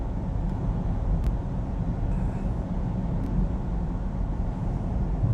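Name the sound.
tyres on wet road inside car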